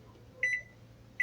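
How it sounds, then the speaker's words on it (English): Two short high electronic beeps from a microwave, then another beep a moment later, over a low steady hum. "I'm gonna microwave it as I go pick some berries."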